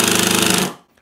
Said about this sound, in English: it's happily driving that huge screw into that piece of wood